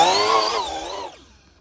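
A high-pitched electric whine from an Arrma Limitless RC drag car on Pro-Line sand paddle tires, rising and falling briefly before fading away as the car speeds off across sand.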